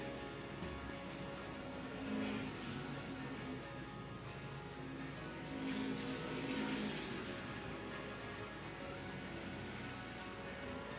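Street stock race cars roar around the oval at Angola Motorsport Speedway, a steady distant engine drone swelling twice as the pack passes, heard from the stands.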